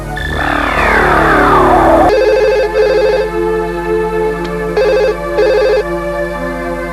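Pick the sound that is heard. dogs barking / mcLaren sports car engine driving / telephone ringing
telephone ringing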